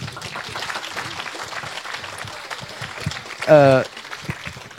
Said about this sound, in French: vous pouvez les applaudir quand même